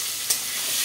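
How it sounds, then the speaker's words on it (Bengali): Potatoes frying in oil in a home kitchen, a steady close sizzle and hiss with one brief sharp tick near the start, no voices. "এই তেলে আমি আলুটা ভেজে নেব।"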